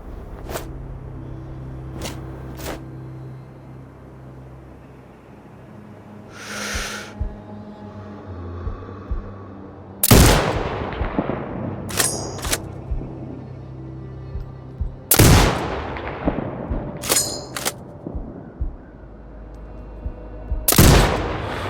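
Sniper rifle shots in the video game Sniper Ghost Warrior Contracts 2, three loud booming cracks spaced several seconds apart, each with a rolling echo, over low ambient rumble and scattered lighter clicks.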